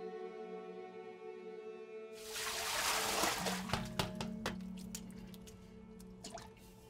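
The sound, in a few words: bubbles popping in fermenting dough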